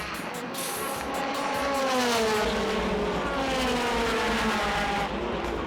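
A race car driven by Tsuchiya for the ARTA team on hard compound tires holds a loud, sustained engine note that rises and falls through gear changes at close range, with no talking.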